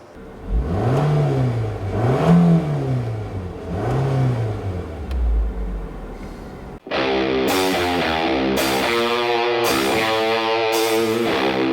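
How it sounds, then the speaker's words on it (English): A 2014 Nissan Altima's engine revs up and drops three times in neutral, then holds at a high, harsh roar that pulses against the limiter at redline, loud and close. "it's bad for the car to redline it when it's not in gear"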